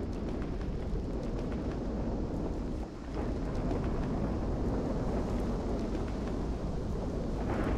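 Dense, roaring storm noise from a Minecraft weather and tornadoes mod, a steady broadband rumble of wind and rain with a brief dip partway through, loud and continuous with no talking.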